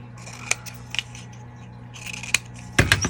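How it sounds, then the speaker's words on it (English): Scissors snipping paper while cutting out a paper butterfly for a junk journal, several crisp separate cuts close up over a low hum, ending in a louder cluster of snips. "what if I just barely cut out the butterfly?"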